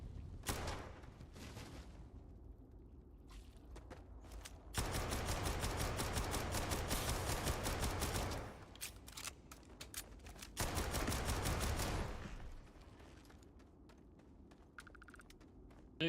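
Pistol gunfire in the game Starfield: long, rapid bursts of close, loud shots in two main stretches of a few seconds each, with scattered single shots before and after and no talking.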